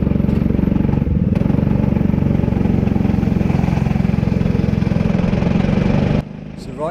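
A go-kart engine buzzes steadily and close up during slow warm-up laps at the Karttrak track in Cromer, holding an even drone before dropping off near the end.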